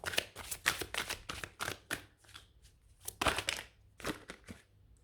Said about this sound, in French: Je vais aller vous tirer 3 cartes de l'oracle de l'énergie